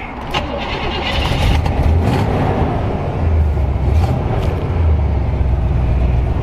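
A Corvette engine cranks and catches after an alternator replacement, then settles into a loud, rough, close running rumble with a few sharp mechanical knocks.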